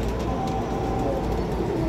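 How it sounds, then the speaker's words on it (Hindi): Pigeons, male and female birds kept together for sale, cooing softly and steadily over a continuous low background hum, with no talking. "ए कबूतर वेखो माशाल्लाह जनाब"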